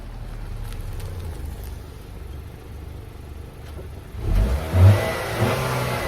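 A 2021 Acura RDX pulls in, its engine a low steady hum that swells into a louder revving surge before settling, close by with no talk.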